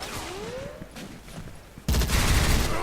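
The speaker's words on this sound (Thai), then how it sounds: "อุ้ยไม่ไหวครับโดนสไนยิงนะครับ" Bursts of gunfire from the online shooter game Special Force 2, with scattered shots early on, then a loud, dense volley of rapid fire breaking in near the end.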